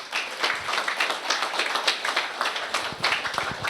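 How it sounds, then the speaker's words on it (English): An audience at a San Jose city council swearing-in ceremony claps, a busy, uneven patter of many hands at close range lasting a few seconds without talk. "he deserves another round of applause for that"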